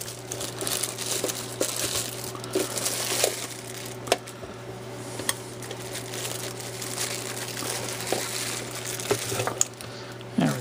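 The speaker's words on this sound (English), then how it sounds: "move the plastic" Plastic wrapping crinkles and rustles continuously as it is shifted around while a ceramic heater is unpacked, close up with occasional sharper crackles over a steady low hum.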